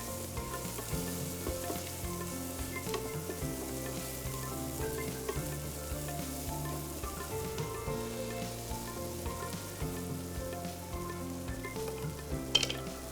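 Ground turmeric and red chilli powder sizzle and fry in a pan while millet biryani is prepared, giving a steady crackling hiss that continues throughout without any speech.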